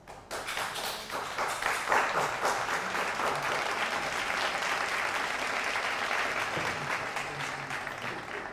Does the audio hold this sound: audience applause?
yes